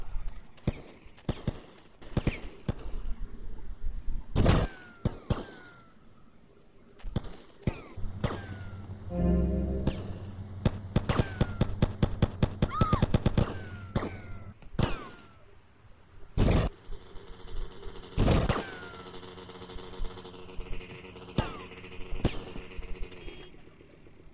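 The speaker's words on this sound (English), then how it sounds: "What the hell is shooting at me?" Gunfire in GTA Vice City Definitive Edition comes as scattered sharp shots and short bursts at irregular intervals, some near and loud, with game music and mechanical tones in the gaps.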